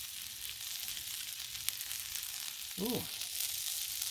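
Garlic parmesan butter sizzles steadily on a hot Blackstone griddle, a continuous bright frying hiss, while a brief voiced exclamation cuts in near the end.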